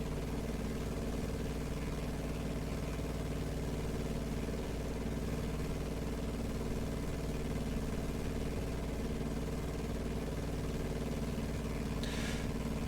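Steady, droning piston engine of a Piper J-3 Cub light aircraft after the RPMs are pulled back, a constant mid-pitched hum running unbroken throughout with no talk.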